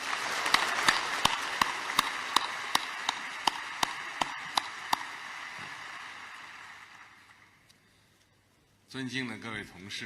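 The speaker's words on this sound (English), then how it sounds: "Let us welcome them with a warm round of applause." Delegations arriving at the FOCAC summit opening ceremony in Beijing are welcomed by a large hall audience whose applause carries sharp, evenly spaced claps over a wash of crowd noise. It fades away and a voice then begins speaking.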